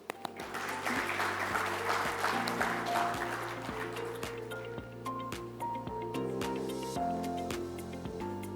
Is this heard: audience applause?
yes